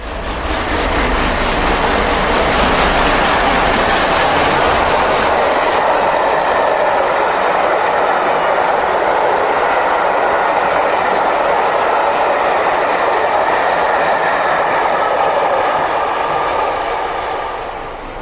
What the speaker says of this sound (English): an Exeter-bound Cathedrals Express, which worked out over the full mainline route from Waterloo to Salisbury